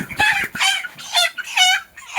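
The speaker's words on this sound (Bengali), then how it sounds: "এই যে মুরগির বাচ্চাগুলো দেখতেছেন এখানে বয়স টোটালি আজকে 28 দিন" Broiler chickens, 28 days old, cluck and call close by in a run of repeated rising squawks with short gaps between them.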